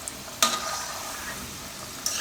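Bajra flour chapadi frying in oil over a low flame, a soft continuous sizzle with two brief sharper bursts of crackle, heard close and alone.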